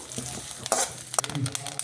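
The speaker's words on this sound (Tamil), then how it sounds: "இது கொஞ்சம் நல்லா பொரியட்டும்." A steady crackling sizzle of mustard seeds frying in hot coconut oil, with a few sharper pops and a stirring scrape partway through.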